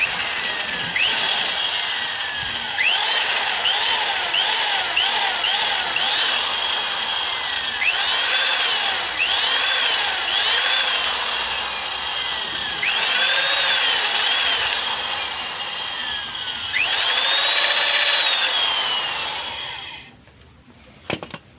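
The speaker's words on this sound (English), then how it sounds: "So we drill in 5mm." A power drill with a 5mm bit bores into a metal engine exhaust pipe, a loud close whine that surges and dips in repeated bursts for about twenty seconds before cutting off.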